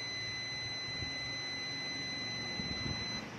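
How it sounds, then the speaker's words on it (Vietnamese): A multimeter beeps in a steady, unbroken tone while wiring is checked on a Honda Lead 125 scooter during a 5V-to-ground short test. The sound is clear and continuous, with no voices. "các anh chị xem cái đồng hồ em nó kêu tít tít tít tít là ok nha"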